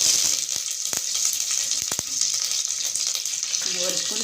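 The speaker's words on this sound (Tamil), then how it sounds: "கடுகு வெடிச்சிடுது. கருவேப்பிலை," Mustard seeds and curry leaves sizzle and crackle in hot coconut oil in a pan, with a steady close frying hiss broken by sharp popping bursts as the seeds burst.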